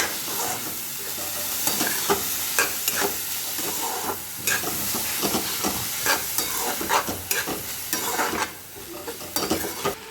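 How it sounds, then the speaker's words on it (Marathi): Sprouted moth beans tossed with red chutney sizzle in a pan, with frequent scraping and clattering stirs of a spoon over a continuous hiss, moderately loud and close, with no speech. "आता हे छान प्रकारे आपल्याला परतून घ्यायचं आहे"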